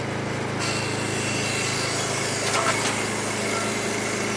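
Power saw cutting scrap wood down into small 1x1 stickers during sawmill cleanup, a steady high-pitched motor whine holding at a constant level throughout with no talking.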